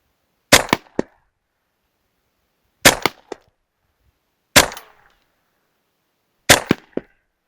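Hatsan Velox PCP air pistol fired at balloons 50 metres away outdoors: four loud, sharp shots a couple of seconds apart, each followed closely by a fainter crack or pop, with silence between them.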